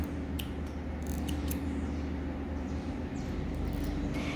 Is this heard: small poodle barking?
no